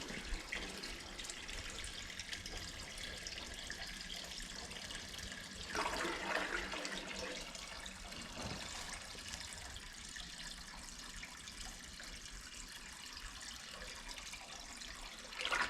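Water runs steadily into a 5-gallon container, a soft, continuous rushing stream heard fairly faintly, with a brief splashier surge partway through.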